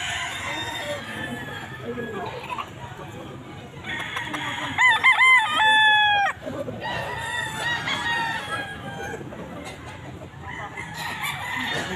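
Golden boy roosters at a busy pet market crow and cluck repeatedly, with one loud, drawn-out crow standing out near the middle amid overlapping calls from other birds close by.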